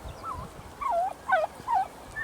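Several birds give repeated warbling, gobble-like calls in short bursts from close by, three or four distinct calls over faint outdoor background noise beside a parking area.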